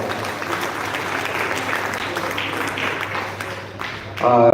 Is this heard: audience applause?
yes